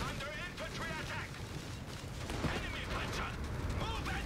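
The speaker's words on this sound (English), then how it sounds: "Mortars pushing these MGs back. Rapid firing, those barrages" Rapid mortar barrages from a Company of Heroes 3 tournament match rumble and crack continuously in the background while a commentator talks excitedly over the battle noise.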